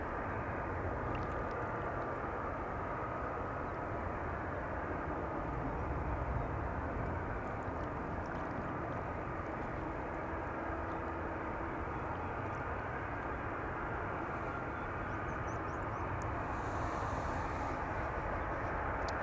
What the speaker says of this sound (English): EasyJet is landing, arriving from Naples